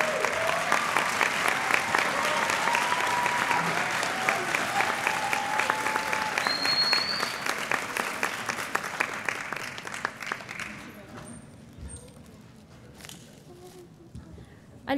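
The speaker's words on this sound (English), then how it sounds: "A special round of applause for Yvette." A graduation celebration audience applauds a graduate, loud dense clapping with a few cheers that gradually thins out and fades toward near silence by the end.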